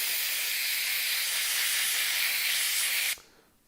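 Compressed air from an air hose nozzle blows off aluminum shavings, a loud, steady broadband hiss lasting about three seconds before cutting off abruptly to near silence.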